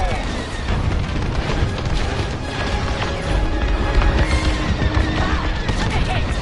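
A core detonation in the Star Wars: Squadrons space combat game lands as a dense, sustained rumbling blast that holds loud and steady for several seconds, thick with low booms, crackling bursts and layered battle noise.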